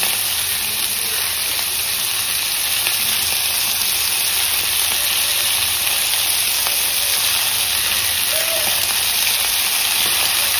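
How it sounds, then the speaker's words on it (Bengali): Salt and turmeric fry in a pan before greens are added, a steady, loud, unbroken sizzle and hiss that runs close up the whole time, with no talking. "এখানে নুন হলুদ দিয়ে ভালো করে কষিয়ে একটু মজে গেলে তারপরে শাকগুলো দেবো।"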